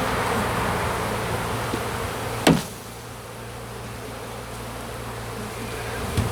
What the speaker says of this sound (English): Bees on all frames, decent population there.